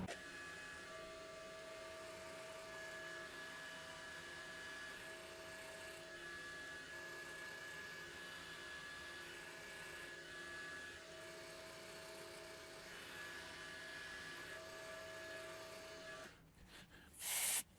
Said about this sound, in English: Let's try stepping over to the side and do side milling.